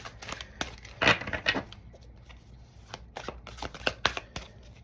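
Tarot cards being shuffled by hand: a run of crisp riffling bursts and soft slaps, close and moderately loud, with uneven pauses between strokes and no talking.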